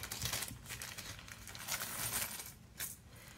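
An AliExpress jewelry package is opened close up, with continuous crinkling and rustling of plastic wrapping and a few small clinks of metal pieces.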